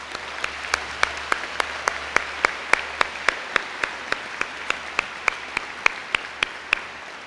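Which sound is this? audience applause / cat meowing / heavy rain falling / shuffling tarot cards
audience applause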